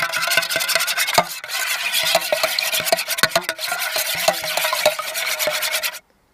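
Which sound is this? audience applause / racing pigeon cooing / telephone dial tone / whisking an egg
whisking an egg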